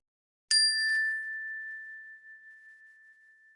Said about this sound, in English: So you'll hear a bell at the start and at the end of the practice